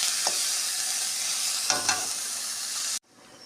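Onion, ginger and garlic fry in a pan with a steady, close hiss and a few brief stirring scrapes, then the sizzle drops away sharply near the end.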